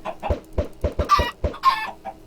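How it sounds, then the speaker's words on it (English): Chickens in a Minecraft server game cluck in a quick, steady series of about nine short, close bursts, with a couple of louder squawks in the middle. "in this area, you just shoot chickens, kill chickens to get food and eggs"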